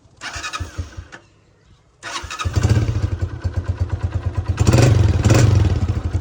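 A motorcycle's electric push-button starter cranks briefly after some handling clicks, then the engine catches and settles into a loud, close, rhythmic idle with throttle swells.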